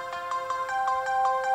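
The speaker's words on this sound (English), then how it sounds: "So I got the notification." A phone notification tone repeats as a quick series of bright, evenly spaced electronic beeps, clear and close, with no talking.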